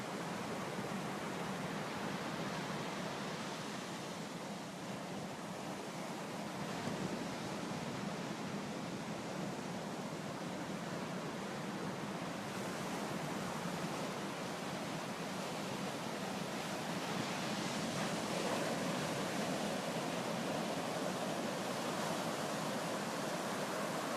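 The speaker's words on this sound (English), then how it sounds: "which just makes it even more pleasant to have the waves crashing around" Ocean waves crash and wash steadily onto the beach at low tide beside a boardwalk, a continuous broadband roar with rolling surges, fairly close and loud, with no voices.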